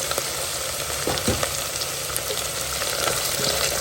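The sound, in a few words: onions and fresh green peas frying in a pan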